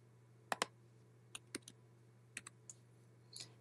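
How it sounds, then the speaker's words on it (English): Someone types a parcel number on a computer keyboard, about a dozen sharp, faint key clicks in small irregular clusters over a low steady hum. "we type in the same parcel number that we had before"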